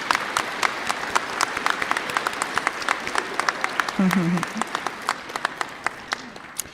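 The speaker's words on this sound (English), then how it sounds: "So we need a round of applause for all of our ADN Spring Valley class" Steady applause at a nursing commencement for the ADN Spring Valley class, with a few sharp, distinct claps standing out rhythmically over the crowd and a brief voice heard midway.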